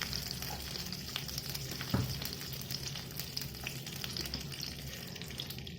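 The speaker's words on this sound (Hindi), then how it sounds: "अब मैं इसमें फिर से इसी कढ़ाई में देसी घी डालूंगी।" Desi ghee melting and frying in a kadhai gives a steady, close crackling sizzle with soft stirring scrapes, continuous throughout, plus one louder low thump near the middle.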